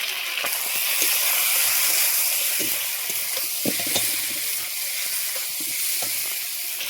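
Fried potatoes with turmeric, salt and chili powder sizzling in hot oil, a continuous close hiss broken by occasional scraping stir strokes, with no voices.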